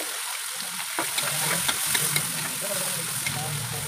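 Garlic frying in a hot pan, a continuous loud sizzle with a few stirring clinks and a faint background voice.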